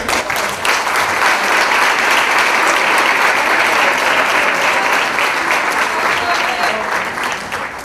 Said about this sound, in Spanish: Recibimos a los integrantes de nuestro panel con un fuerte aplauso